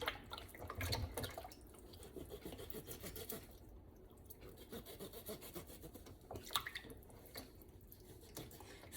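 A knife cuts up a raw pork roast being cleaned for tamales. The cutting sounds like quiet, close rasping and scraping strokes, with occasional small wet drips and taps between them.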